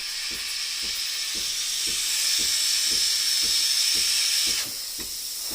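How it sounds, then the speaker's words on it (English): A Breville Infuser BES840 espresso machine steam wand hisses loudly and steadily throughout, with a regular low pulsing underneath like a pump ticking, then the hiss drops off near the end. "Once steam starts coming out and you hear the pump engage,"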